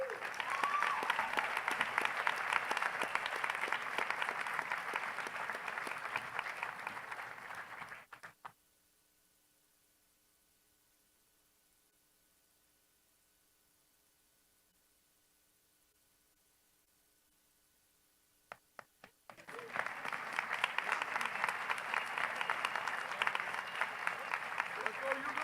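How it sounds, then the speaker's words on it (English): Audience applause at a high school graduation ceremony, a dense roar of clapping that fills the space, cuts to near silence for about ten seconds, then returns just as loud and sustained. "another round of applause for the graduates"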